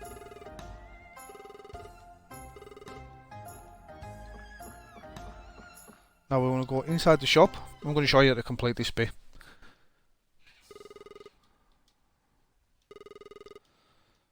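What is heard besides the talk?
telephone ringing in a video game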